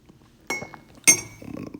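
A tea cup clinks twice against glass or china, two sharp bright taps half a second apart in an otherwise quiet room.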